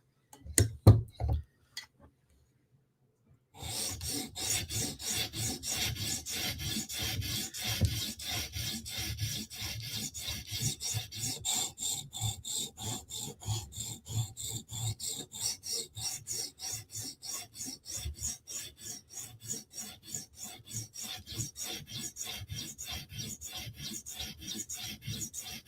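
Spyderco knife edge being sharpened, with a steady rhythmic rasp of blade strokes across a stone running for over twenty seconds after a few brief opening strokes and a short pause, close and fairly loud with no talking.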